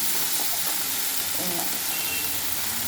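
Cluster bean poriyal fries in a pan with a dense, continuous close sizzle, punctuated by scraping stirs, and a faint voice underneath.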